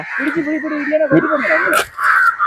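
A crow caws harshly and repeatedly from close by, loud and raspy, while people talk over and around the calls.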